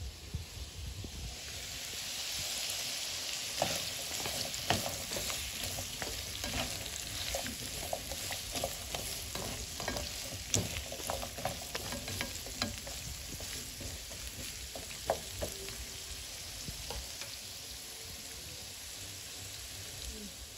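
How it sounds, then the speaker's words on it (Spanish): Carrots and onion fry in a pan while being stirred, giving a continuous loud sizzle with repeated scraping strokes of the spoon, close up and steady for the whole stretch, with no speech. "a estar moviendo así por unos cuantos minutos"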